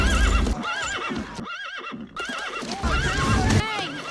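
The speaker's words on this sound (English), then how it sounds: "There is this one freaking sound effect that every company ever uses for their goddamn horses." The stock horse neigh effect used in films sounds out as loud, wavering whinnies, repeated several times with hoof clip-clop and a brief quieter gap in the middle.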